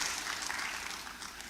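Audience applause at an investment forum, a brief dense burst of clapping from a crowd, steady and moderately loud throughout with no speech over it.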